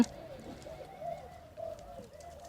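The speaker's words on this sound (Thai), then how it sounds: "ฟังเสียงที่เขาขันโยน" A spotted dove coos from a hanging cage. Its soft, repeated low calls sound close by over faint background noise.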